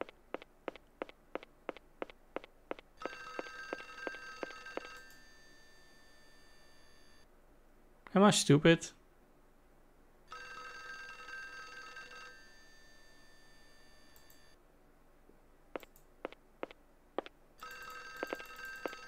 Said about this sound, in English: Is the phone still ringing? Yes.